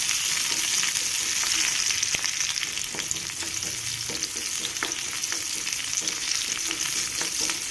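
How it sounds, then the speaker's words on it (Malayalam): Curry leaves are stirred into coconut egg curry masala frying in a pan, giving a steady close sizzle with a scraping stir and scattered clicks of a spoon against the pan. "ഈ നമ്മൾ നമ്മളിതിലേക്ക് ഇടുന്നുണ്ട് എന്നിട്ട് അത് നന്നായിട്ട് ഇളക്കി കൊടുക്കും"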